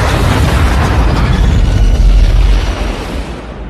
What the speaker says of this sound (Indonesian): Ray pun meledakkan dirinya bersama Dr.